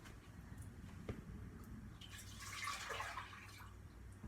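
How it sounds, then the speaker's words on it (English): Milk is poured into a saucepan, a soft liquid splash and trickle that builds into a brief, faint stream before tapering off, with a few small drips and clinks around it. "So just pour that into a saucepan"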